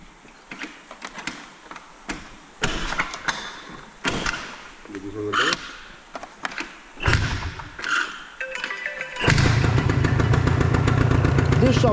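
A dragster engine is cranked and fired up after two years standing outdoors, catching at the end into a loud, steady running roar, preceded by thumps, clanks and brief bursts of work noise with people talking nearby.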